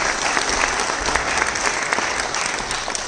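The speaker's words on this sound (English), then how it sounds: "Let's give them a big round of applause again." Audience applause after a dance performance at a Bharatanatyam salangai pooja, a steady, full round of clapping from a hall crowd, close and sustained.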